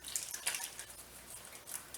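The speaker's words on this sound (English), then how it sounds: "So I'm putting all the tomato in it, the liquid and everything." Canned tomatoes and their liquid pouring from the can into a casserole dish, a brief wet splashing, sloshing stream, close and moderately soft.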